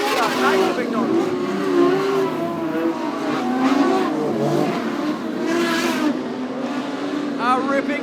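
Modified sedan race cars at Cairns Speedway roar continuously at full throttle, engines rising and falling as the pack passes, loud and sustained throughout under a commentator's running talk.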